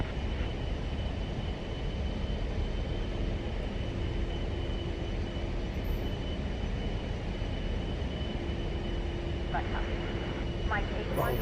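An A-10 attack jet in the DCS flight combat game roars with a steady, loud broadband engine rumble that persists throughout, with a faint tonal whine and a few short sharp bursts near the end.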